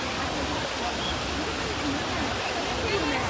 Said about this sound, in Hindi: यहाँ पर सामने भी छोटा वाला वाटरफॉल है।